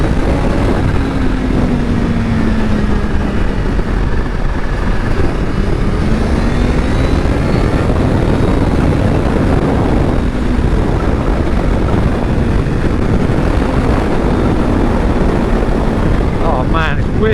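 Supercharged Kawasaki Z H2 naked motorcycle riding at speed, a loud, steady roar of engine and supercharger whine mixed with heavy wind rush, continuous and close throughout.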